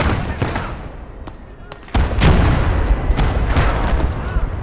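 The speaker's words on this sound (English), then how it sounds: "There's some people shooting." Gunfire in the World War II game Legion of the Damned, rapid cracking shots and heavier booms in irregular bursts, growing louder after the first two seconds, mixed with game battle noise.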